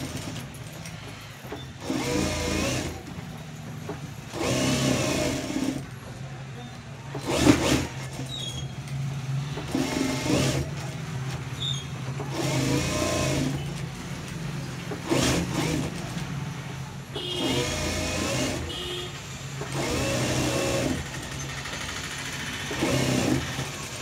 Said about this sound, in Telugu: నేను ఇక్కడైతే కాజాలు మిషన్లోనే వేసేస్తానండి.